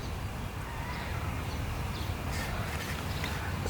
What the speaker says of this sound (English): Hear that squawking? Kookaburra.